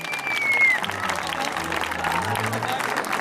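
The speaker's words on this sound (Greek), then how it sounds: "Αξίζει ένα χειροκρότημα σε αυτόν τον άνθρωπο." Audience applause for a man called up on stage at a plaque award ceremony, a steady wash of clapping that holds through the whole stretch at moderate loudness with faint talk mixed in.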